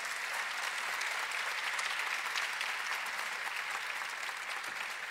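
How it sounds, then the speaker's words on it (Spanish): Graduates' audience at a postgraduate graduation ceremony gives a steady round of applause, an even, dense wash of clapping from a large crowd, fairly distant, with no voices on top. "Fuerte el aplauso para Jesús."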